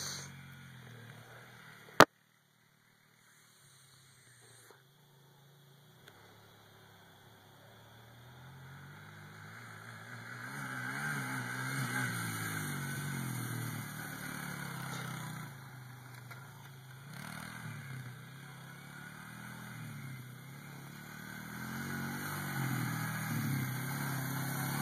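A dirt bike engine revs during wheelie attempts, faint and somewhat distant, with rising and falling throttle surges that build after a quiet opening and a single sharp click.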